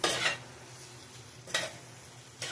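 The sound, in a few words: stirring pan-fried potatoes in a pan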